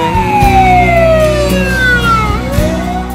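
An EMS ambulance siren wails loudly and close, its pitch sweeping down and then rising again over a rumbling vehicle engine, with no voices.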